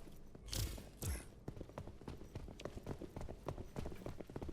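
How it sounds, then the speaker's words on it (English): Ominous stomping footsteps in a video game, two heavy thuds followed by a rapid run of quieter, regular steps that keep going, all faint and fairly distant. "I hear ominous stomping to my left"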